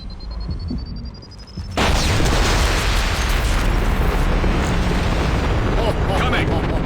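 A giant explosion in Mass Effect 2 bursts in suddenly after a quieter stretch with a rising tone, then roars on loudly as a sustained rumbling blast.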